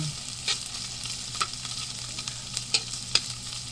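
Espada chili peppers sauté in a pan with a steady sizzle, broken by several sharp scrapes and taps of a spatula stirring at irregular intervals.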